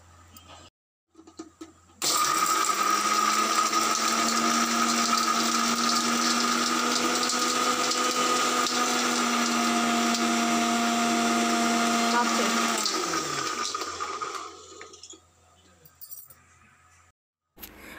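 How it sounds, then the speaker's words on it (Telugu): A kitchen mixer grinder blending coconut-free chutney with rock salt, a loud steady whine running about ten seconds after a short start, then winding down, with quiet pauses either side. "ఇలా మిక్సీకి పట్టుకుని వేసాను."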